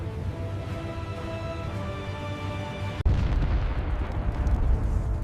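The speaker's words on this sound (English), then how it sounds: "Explosions dance across the horizon." A low rumbling roar is broken by a sudden sharp blast, followed by deep, sustained booming like distant explosions.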